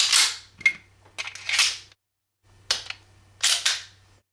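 A Dan Wesson ECP 1911 in .45 ACP has its slide locking back on a 10-round magazine, giving several sharp metallic clacks and racking sounds in quick bursts separated by short silences.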